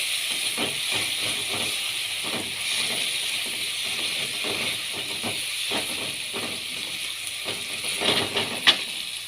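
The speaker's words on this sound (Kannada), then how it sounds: "ಇದಕ್ಕೆ ನಾನು ಕಟ್ ಮಾಡಿ ಇಟ್ಟುಕೊಂಡಿರುವಂತಹ ಟೊಮೆಟೊವನ್ನು ಸೇರಿಸಿ ಸ್ವಲ್ಪ ಚೆನ್ನಾಗಿ ಫ್ರೈ ಮಾಡ್ಕೊತೇನೆ" Chopped tomato fries with onion in a pan for a raw peanut dry masala, a steady close hiss and sizzle with faint stirring clicks throughout.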